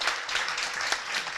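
Brief audience applause during a ministerial announcement of school exam results: a short, steady wash of clapping at moderate level, with no voices over it.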